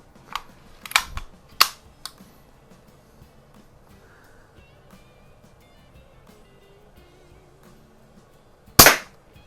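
A Daisy BB gun, either a No. 101 Model 36 or a Model 102, fires at a target, heard as a few sharp, close snaps in the first two seconds and one more loud crack near the end, with quiet between.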